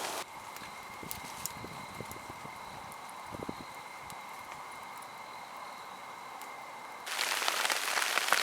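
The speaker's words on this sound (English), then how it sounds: "it's starting to get pretty rainy" Rain begins at a stealth campsite in the woods, a soft steady patter with scattered light taps and clicks that swells into a louder, fuller hiss toward the end, with no voices.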